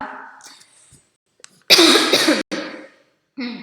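A teacher lecturing a class coughs hard and close to the microphone, one harsh burst followed by a second shorter cough, with brief soft vocal sounds before and after.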